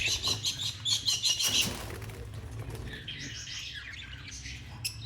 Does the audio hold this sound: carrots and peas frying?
no